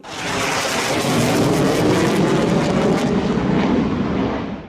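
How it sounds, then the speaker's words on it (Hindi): Loud, continuous roar of JF-17 Thunder fighter jets in a ceremonial flypast over Pakistan, a broad rumbling wash of engine noise that holds steady throughout with no talk. "पाक सरजमीन की फजाओं में फ्लाई पास्ट पेश करते JF-17 थंडर की घन गरज भी सुनाई देगी।"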